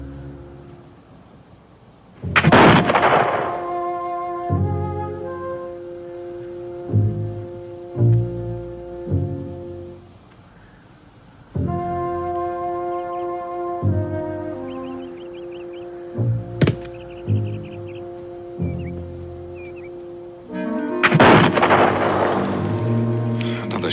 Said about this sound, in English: Shot from the Enchanted gun.